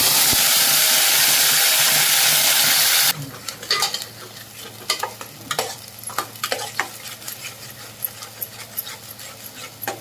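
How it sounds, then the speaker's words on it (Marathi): Onion sautéing in a pan with bay leaf, cinnamon, black cardamom and cloves for hotel-style chicken gravy: a loud hissing sizzle for the first few seconds, then quieter frying with repeated sharp scrapes and knocks of stirring. "आता आपण याच्यामध्ये कांदा परतून घेऊया"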